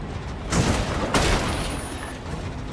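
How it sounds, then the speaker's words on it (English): A bomb goes off in the video game Death Stranding with two heavy broadband blasts in quick succession, loud and close, trailing into rumbling debris. "This bomb is totally gonna fucking explode"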